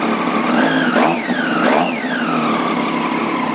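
Triumph Street 765 motorcycle fitted with an Arrow exhaust, idling then blipped twice, with loud close revs rising and falling before settling back into a steady idle.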